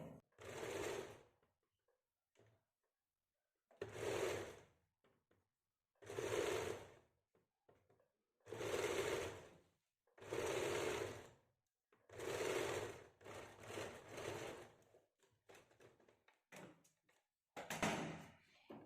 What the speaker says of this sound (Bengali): একটা দিক আমি সেলাই করে নিলাম